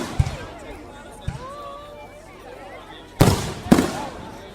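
Fireworks explode in four sharp bangs, two spaced early and a closer, louder pair near the end, with whistling trails and faint crowd voices between them.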